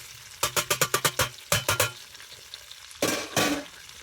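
Mushrooms being added to a pan where fish is frying, with a run of close, quick stirring scrapes over a steady sizzle, a pause, then two longer bursts of loud frying and stirring.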